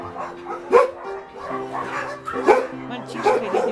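An injured dog barks and yips in short bursts at a shelter for old and disabled dogs, the sounds close and fairly loud, with a person talking alongside.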